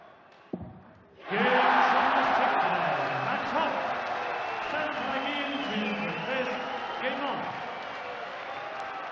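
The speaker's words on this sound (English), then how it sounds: "The crowd would have told you what happened there, even if you were sat there with your eyes shut" Darts crowd at the 2018 European Darts Matchplay erupts into a loud, sustained roar after a brief quiet moment, with a dense wall of mixed shouting and groaning voices holding steady to the end.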